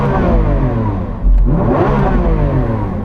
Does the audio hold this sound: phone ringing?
no